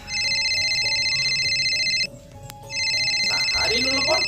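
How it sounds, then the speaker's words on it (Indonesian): A telephone rings loudly and close by in two electronic bursts with a short gap between them, and a person starts talking as the second ring plays. "Telepon."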